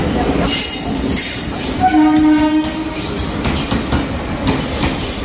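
A train rumbles past nearby with rattling wheels and a brief squeal or horn-like tone in the middle, loud and continuous throughout.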